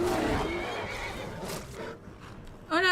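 A horse whinnies in a video game, a long high neigh through busy game noise, followed by a short second whinny at the end.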